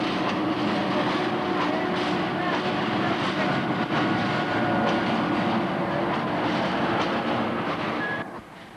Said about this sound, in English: The Class 8E is a modern electric shunting locomotive designed for the lines electrified at 3 kV